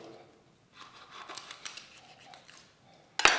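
A knife or poultry shears cutting apart a raw poultry carcass, heard as a short series of soft tearing and snipping sounds close by, ending in one sharp crack of bone or joint.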